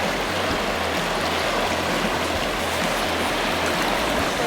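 Fast-flowing water of the South Branch of the Potomac River, a loud, dense, continuous rushing roar close by with no talking over it.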